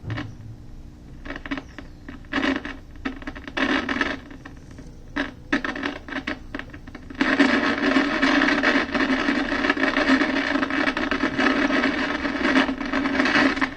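The tuning capacitor of a circa-1957 General Electric 875 tube radio being turned, giving scratchy intermittent rubbing and crackle that gives way to a loud, steady wash of static noise.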